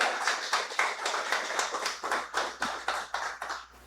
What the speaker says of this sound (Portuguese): Você pode dar uma salva de palmas a ele?